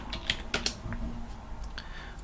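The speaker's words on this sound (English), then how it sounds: "I'm so used to typing another password, right?" Keystrokes on a computer keyboard while a password is typed at a login screen, a quick run of close, crisp clicks at uneven spacing over a faint background hum.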